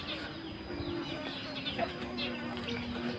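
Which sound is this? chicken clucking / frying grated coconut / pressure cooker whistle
chicken clucking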